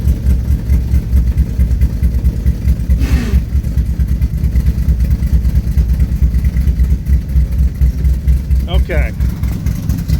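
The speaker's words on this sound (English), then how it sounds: "What do you say we push in the clutch and see if we get wheel movement?" The engine of a 1968 Chevrolet Camaro runs steadily at idle with the clutch pushed in, a low rumbling throb throughout, while someone speaks briefly.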